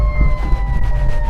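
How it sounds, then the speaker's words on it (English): An ambulance siren wails loudly and close by with steady tones, heard from inside a 2011 Honda Civic Si, with low road rumble underneath and no talking. "Oh my gosh, the ambulance,"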